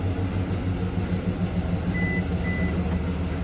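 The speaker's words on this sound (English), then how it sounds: "Not sure if you heard it, but it beeped 3 times." A 2025/2026 Hyundai Tucson power liftgate gives short, high electronic beeps to confirm a height setting. The beeps are fairly faint against a steady, loud background rumble.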